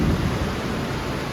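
Heavy rain drumming hard and continuously on a car during a downpour on the road from Guwahati to Goalpara, with low rumbling thunder underneath, loud and close.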